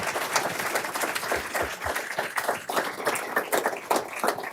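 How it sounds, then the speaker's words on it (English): Audience clapping for panelists at a discussion event, a moderate round of scattered hand claps heard close and fairly steady, with no talk. "let's have a round of applause for our great panelists"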